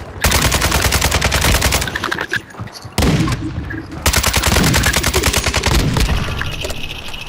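Rapid machine gun fire in a battle royale video game, loud and close, long sustained bursts with a short pause, crackling rhythmically throughout without any speech.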